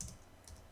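Keys tapped on a computer keyboard while writing in a Jupyter Notebook cell: a short, faint burst of soft clicks with no voice.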